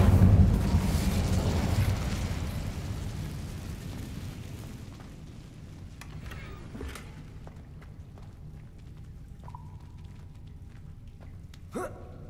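An Incendio fire spell goes off in Hogwarts Legacy as a loud, roaring whoosh of flame that fades slowly over several seconds. Faint crackles follow, and a brief sharp pop comes near the end.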